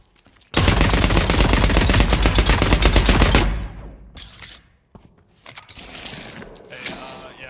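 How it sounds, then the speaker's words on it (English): Sustained automatic gunfire from a weapon in the video game The Cycle: Frontier roars for about three seconds, then gives way to scattered mechanical clicks and shorter bursts. "I see you shooting the Marauder"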